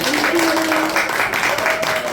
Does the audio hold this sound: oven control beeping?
no